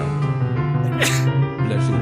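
A single sharp sneeze close to the mic, a brief burst in the middle set against a sustained musical tone.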